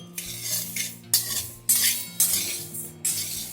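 Grains dry roasting together in a pan on low to medium flame for chakli bhajani, with a spoon scraping and stirring in five or six distinct strokes, close and clear and with no talking.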